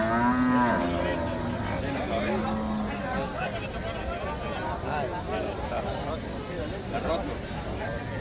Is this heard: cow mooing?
yes